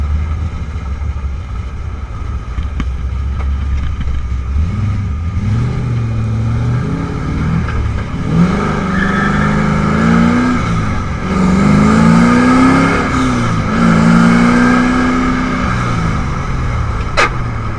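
An LS V8-swapped Nissan 240sx accelerates and revs up through several rising engine pulls, a loud close growl climbing and dropping in pitch between shifts, with no talking.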